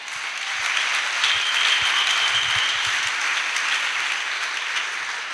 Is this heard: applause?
yes